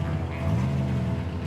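A restored Ford Mustang with dual exhaust idles steadily in a garage just after starting, a low rumbling engine drone held at an even level, close and continuous.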